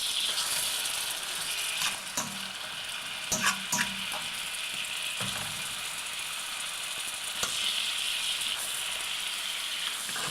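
Apples and sugar sizzle steadily in a hot pan for an apple crumble, a soft continuous frying hiss broken by occasional scraping clicks and knocks as the fruit is stirred, with no talking.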